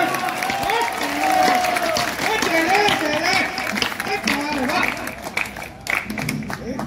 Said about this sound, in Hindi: मुझे नहीं लग रहा था कि कविता पर भी इतनी तालियां बज सकती हैं